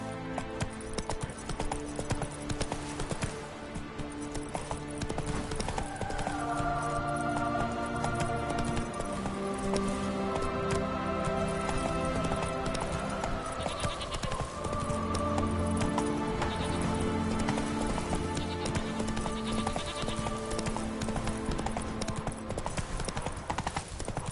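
Roach, a horse in The Witcher 3, gallops with a steady clip-clop of hooves under a layer of tonal game music.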